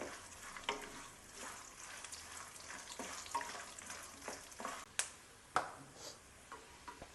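Peanuts frying in a pan until golden brown, with dry coconut to follow, for chatpat mandakki: a soft, steady sizzle with scattered clicks and a few sharper ticks of stirring near the end.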